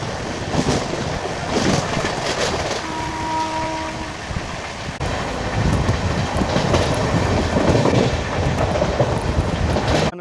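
The Sirpurkaghaz Nagar Intercity Express, train 12757, pulls out of Jammikunta station with a loud, continuous rumble and clatter of rail cars. A brief thin tonal whine rises over the noise early on.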